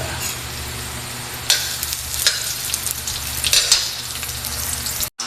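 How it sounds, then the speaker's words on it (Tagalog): Chopped ginger sautés in a hot pan outdoors, a steady close sizzle with bursts of crackling as it is stirred, over a low background hum and no talk, ending in a brief cut. "Ito, gisa-gisa, unahin natin ang luya."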